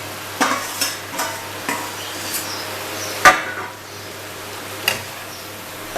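Whole pointed gourds (potol) go into hot oil with spices, giving a soft sizzle broken by a string of sharp stirring clicks and scrapes from a utensil against the pan, close by.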